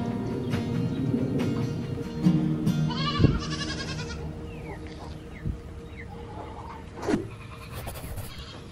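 Goats bleat on a farm in short wavering calls, a few near ones standing out over steady outdoor background and some voices.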